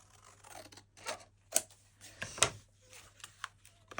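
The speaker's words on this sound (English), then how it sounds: "I'm going to cut it because it's a bit big" Scissors cut through a large paper journaling card in a few crisp snips spaced irregularly, close and fairly quiet, with soft rustling of the card between cuts.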